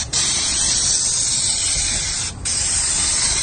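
Spray foam blasts onto an old metal roof in a loud, steady, close hiss that cuts out briefly once before resuming, with no voices.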